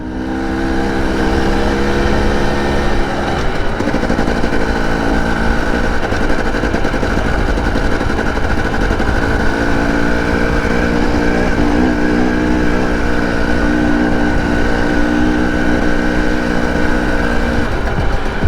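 A Husqvarna TE 300i two-stroke motorcycle engine drones loudly and steadily while being ridden. The close, continuous tone holds a fairly constant pitch for the whole stretch.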